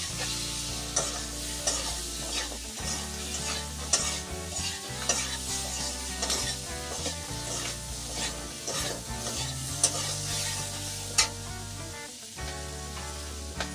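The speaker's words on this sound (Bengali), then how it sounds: "এবার আমি এগুলিকে একটু সব কিছুর সঙ্গে মিশিয়ে নেব।" Spices and turmeric stirred and fried in a pan, with a steady close sizzle and repeated scraping strokes of a spoon running throughout.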